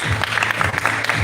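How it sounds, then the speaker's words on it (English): A pageant crowd at a Manila event claps in a short, dense burst of applause, loud and continuous. "give yourselves a big, big round of applause"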